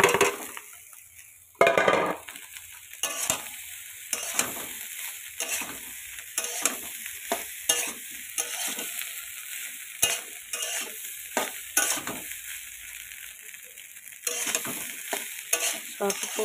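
A dish topped with chopped coriander leaves being stirred in a pan, irregular scraping and clinking strokes over a faint background sizzle, close by with quiet gaps between strokes.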